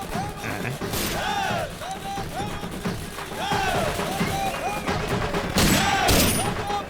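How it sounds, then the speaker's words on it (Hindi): Celebratory gunfire in a Hindi action movie scene: a fast, crackling volley of shots over a noisy crowd and music, with bursts swelling near the end. "देखो कैसे फायरिंग कर रहे हैं"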